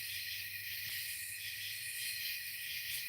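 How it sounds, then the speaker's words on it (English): Crickets and tree frogs calling outdoors at night, a dense, steady high-pitched chorus that carries on without a break over a faint low hum. "capture the tree frogs and the crickets"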